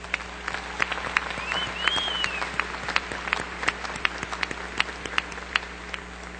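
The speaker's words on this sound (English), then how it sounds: "Why don't we give them another round of applause?" A commencement crowd breaks into applause, with sharp individual claps standing out over a steady wash of clapping and a brief whoop or whistle rising partway through.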